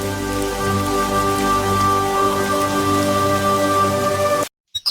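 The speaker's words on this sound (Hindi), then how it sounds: "बारिश की बूंदें उनके चेहरों पर गिर रही थी" A cartoon-style rain effect of drops falling in a steady, dense patter, loud and continuous for several seconds before it cuts off abruptly.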